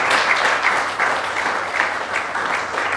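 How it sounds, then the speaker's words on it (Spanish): Loud, dense applause from a church congregation fills the space, a steady roar of many hands clapping with slight swells and no talk over it. "Quiero un aplauso fuerte."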